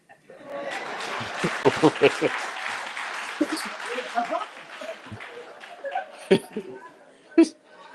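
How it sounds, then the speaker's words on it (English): Applause from a crowd at a media briefing, a dense, steady patter of many hands clapping that runs for about eight seconds, with voices and a few chuckles mixed in. "don't know what the clapping is all about"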